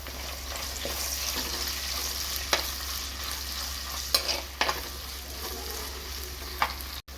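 Shallots, garlic and ginger frying in a pan for a kudampuli pearl-spot fish curry, with a quiet, steady sizzle broken by a few sharp spoon taps over a low hum.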